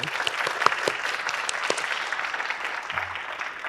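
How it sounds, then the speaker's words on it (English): Applause from an audience at a school district student art showcase and staff recognition ceremony, steady dense clapping that carries on for several seconds at moderate level before slowly tapering. "Can I get a round of applause for Mandy and Sue?"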